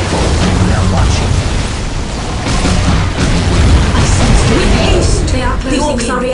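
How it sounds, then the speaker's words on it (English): A loud, dense explosion rumbles through a Dawn of War: Winter Assault battle, broad booming noise sustained across the clip with crackling debris and a few tonal game sounds near the end. "The orcs are reacting to the explosion."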